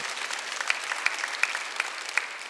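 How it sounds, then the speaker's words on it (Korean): A church congregation at a Sunday worship service claps throughout, a soft continuous patter with a few sharper, evenly spaced claps standing out. "여러분과 내 마음도 언제든지 파상하고 더 넓힐 수 있다고 믿는 사람만 박수하세요"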